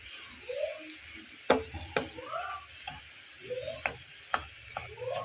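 Spiced potato filling being stirred and mixed by hand with salt and chaat masala on a low stove, giving soft scraping and occasional sharp knocks of a spoon against the pan, close and fairly quiet, with no talk.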